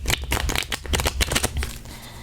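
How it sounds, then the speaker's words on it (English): A deck of playing cards being riffle shuffled, giving a close, loud flurry of rapid crisp flutters and snaps in bursts, ending with a softer riffle. "so it's easy to shuffle. If you're a riffler, I can do it"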